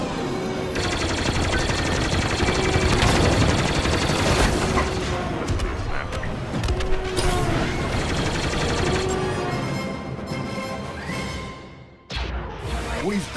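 Blaster bolts and cannon fire crackle through a Star Wars Battlefront 2 space battle, dense rapid bursts with whooshing passes and booms layered over music and game effects, dipping briefly near the end.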